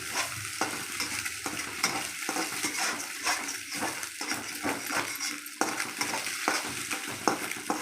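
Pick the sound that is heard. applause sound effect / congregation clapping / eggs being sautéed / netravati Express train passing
eggs being sautéed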